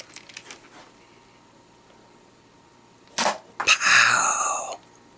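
A ZURU X-Shot MK3 toy dart blaster is cocked with a short sharp click, then fired with a louder whooshing burst lasting about a second, both close and clear after a quiet stretch.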